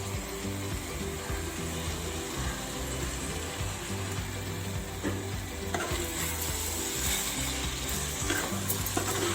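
Sweet corn fries in hot oil with curry masala, a steady dense sizzle and crackle that continues unbroken without any voices.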